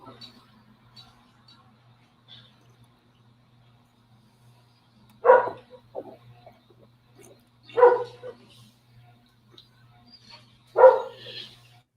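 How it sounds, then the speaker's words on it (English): A dog lets out three sharp, separate barks a few seconds apart in a quiet indoor room, with a faint low hum underneath between them. "That was barking."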